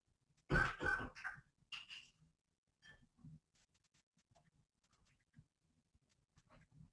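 A few harsh coughs near the start, followed by quiet rustling and faint small noises.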